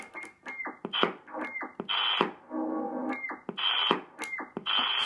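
Super Star 360FM MK1 radio transceiver received on upper sideband, giving warbling, chirping tones in repeated bursts with brief gaps and a steady buzzy stretch in the middle, loud and close with no talking.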